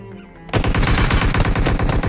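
PUBG Mobile gunfire opens after a short quiet spell with a loud, rapid automatic burst that keeps spraying without pause to the end, close and alone.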